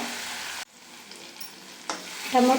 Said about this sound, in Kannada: ಈ ಥರ ಬೇಯಿಸ್ತಾ ಇದ್ದೀನಿ ಟೊಮೊಟೊನ